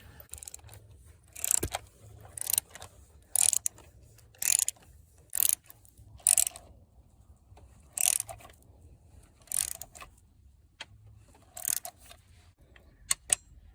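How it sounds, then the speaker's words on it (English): Ratcheting wrench tightening a spark plug on a 2014 Opel Corsa D 1.4 engine, heard as a series of about ten short, sharp mechanical ratchet bursts, some longer than others, spaced irregularly against a quiet background. "the spark plug needs to be tightened to 25 Newton meters dry"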